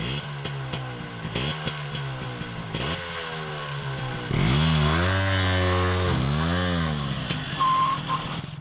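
A car engine revving after a carburetor repair, with rising and falling harmonic engine tones that swell loudest in the middle; a second voice-like burst and clatter are mixed in alongside it.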